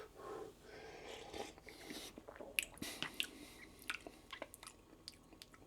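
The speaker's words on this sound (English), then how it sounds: "Sorry for slurping. You've got to slurp though" Close, quiet noodle-eating noises: wet slurps and sucks with soft chewing and small clicks, irregular and unhurried, no talking.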